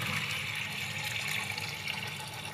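Mutton pieces are rinsed in water, with a steady, faint splashing and running-water wash and no voices.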